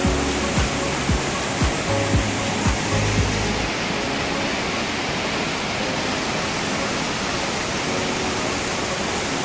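Busay Falls in Sorsogon roars in a constant, dense, powerful rush of water, with a few low thumps at the start before settling into steady noise.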